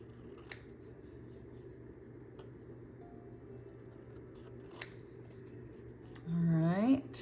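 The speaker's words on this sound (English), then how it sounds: "I'm gonna trim this up." Scissors snip scrapbook paper in a few sparse, quiet cuts against a soft background hum, and a short voice comes in at the end.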